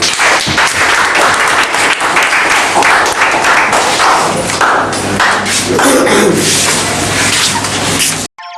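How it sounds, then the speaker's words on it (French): A church congregation applauds loudly and continuously, dense clapping with scattered thumps and faint voices underneath, cutting off abruptly at the end. "Il faut applaudir à Jésus."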